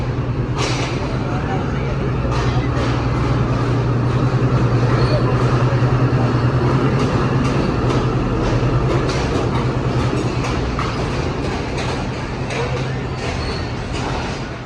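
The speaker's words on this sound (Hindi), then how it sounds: "एक ट्रेन आ गई है पासे।" A train arrives at a large, historic railway station, a steady loud rumble of wheels and carriages with faint clickety-clack that holds throughout, alongside background voices.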